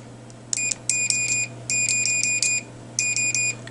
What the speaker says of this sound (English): one thing I'd like to demonstrate on this meter is the extremely fast continuity check